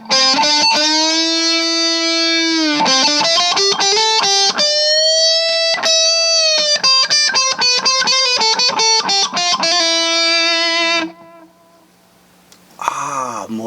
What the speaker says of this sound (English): Now let's add some delay.